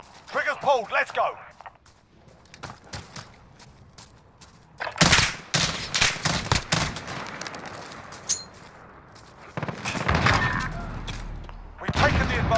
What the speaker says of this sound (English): Gunfire. Triggers pulled,